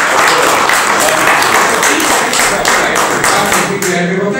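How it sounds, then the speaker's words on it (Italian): A crowd applauds Peppino at an event in L'Aquila, a loud, close, continuous clatter of many hands clapping that holds steady and then tapers slightly at the end. "Un applauso lo dobbiamo fare al nostro Peppino."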